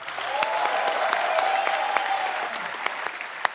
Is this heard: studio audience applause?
yes